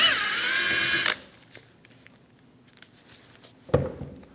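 A 10mm socket turns the heat shield nut on the starter of a 2001-2006 Chevrolet Silverado 2500 HD 8.1L V8. A loud, close whirring spin lasts about a second and stops abruptly, followed by quiet and then a short metallic clatter.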